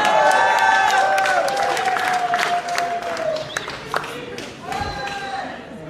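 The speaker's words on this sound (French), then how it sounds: "Et vous n'avez pas fini d'applaudir" Audience applause with cheering and whistles rolls on steadily, loud at first and then easing, with voices mixed in among the clapping.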